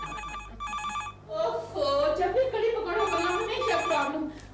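A telephone rings in bursts, with two short electronic ring pulses up front and then more repeating through the rest, while people talk loudly over it in a busy comic indoor scene.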